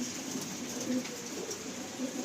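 Pigeons coo inside a full loft of sale birds, a low faint murmur with a few short distinct coos standing out over a constant background hum.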